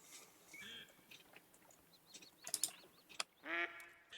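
Mallard ducks quack in theHunter: Call of the Wild hunting game, with scattered faint calls building to a few louder quack bursts near the end, set against quiet ambient outdoor sound.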